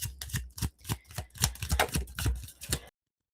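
Quick repeated bursts of tarot cards being shuffled, a rapid papery rhythm up close, ending abruptly in silence.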